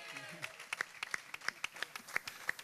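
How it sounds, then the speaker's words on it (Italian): An audience at an outdoor event applauds, with scattered hand claps sounding quietly at a distance for a few seconds. "Un applauso."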